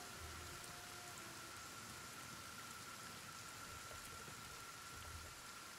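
Steady, dense rain hisses evenly throughout a downpour of acid rain in the video game Kenshi, with a faint tonal hum beneath and no talking.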